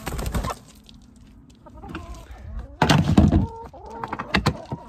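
Hens cluck and squawk close by in short bursts in a garden coop, mixed with rattling and knocking sounds as their food bin is shifted around them.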